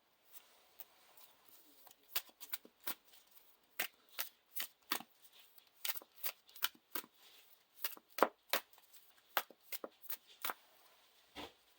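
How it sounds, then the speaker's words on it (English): Playing cards from a Lord of the Rings card game are shuffled back into a deck, a quiet, close run of irregular snapping riffles and soft flicks lasting about twelve seconds. "I'm going to shuffle this back into here."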